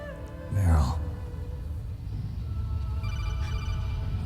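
Codec call ringing in the Metal Gear Solid video game, a bright electronic chirping tone rising and falling briefly near the start, followed by softer repeated beeps later, with game ambience beneath.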